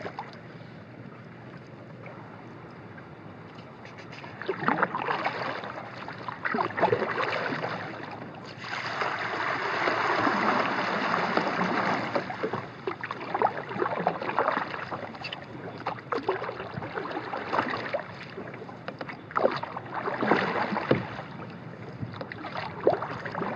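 Paddling a Crescent kayak across a small cove, with steady watery swishes and splashes of the paddle strokes over a low wind-like hiss, growing fuller midway through.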